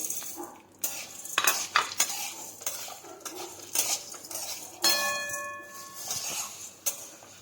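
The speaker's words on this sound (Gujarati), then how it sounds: "તેલ નાખીશું અને તેમાં આપણે આ મેગી છે તે શેકી લેવાની છે" A spoon scrapes and clinks against a pan as Maggi noodles are stirred and roasted in oil and ghee, with irregular metallic knocks, a short ringing tap and a faint sizzle underneath, heard up close.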